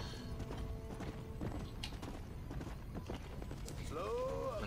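A horse's hooves clip-clop in Red Dead Redemption: Undead Nightmare, a steady run of clops under ongoing talk, with a brief whinny-like call near the end.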